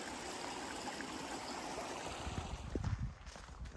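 Stream used as a water source beside a hiking shelter on the Appalachian Trail in southern Pennsylvania, a steady close babble and trickle of running water, with a few louder splashes and gurgles near the end.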